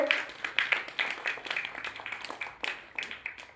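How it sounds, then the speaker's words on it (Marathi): Students clap in welcome at a Savitribai Phule birth anniversary school function, a fast, fairly even run of hand claps at moderate distance that holds steady for several seconds, with no talk over it. "सर्वांनी टाळ्या वाजवायच्या."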